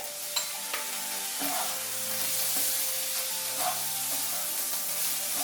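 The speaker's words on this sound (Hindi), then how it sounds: "अभी इसको हाई फ्लेम में 1 से 2 मिनट के लिए फ्राई करेंगे।" Indo-Chinese vegetable fried rice frying on a high flame, a steady close sizzle with occasional scrapes and clinks of stirring, no voices.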